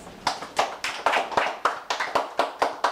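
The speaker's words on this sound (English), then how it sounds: "Please give a round of applause for our presenter, Miss Jessie Cross." Sharp claps repeat in a brisk, even rhythm, about a dozen in three seconds, close and crisp like a few hands clapping, as an audience applauds a presenter.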